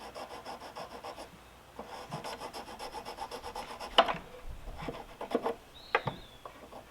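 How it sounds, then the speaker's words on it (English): A small hand file rasps steadily back and forth over a nick on a Toro Timemaster mower blade, close and rhythmic, with a few sharper scraping strokes toward the end. "Let's see if we can file this little nick flat, or at least deburr it a little bit."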